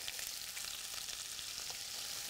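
Chopped onion sizzling in bacon drippings in a pan, a steady, dense hiss of frying that holds even and continuous throughout, close by and free of talk.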